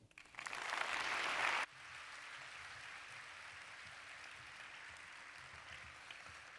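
A burst of audience applause after speakers at a university lecture, loud clapping for a couple of seconds, then fading into a quieter room murmur.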